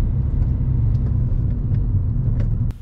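Car cruising in third gear along a straight road, with a steady low engine and road rumble throughout that drops away sharply near the end.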